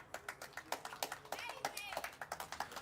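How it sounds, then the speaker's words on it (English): Sparse clapping from a small audience at a community awards event rings out in uneven, distinct hand claps, fairly faint and irregular throughout. "so huge round of applause"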